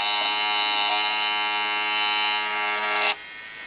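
A small wirelessly controlled electric motor whirs steadily with a high, buzzy tone, then cuts off abruptly near the end, leaving only a quiet background.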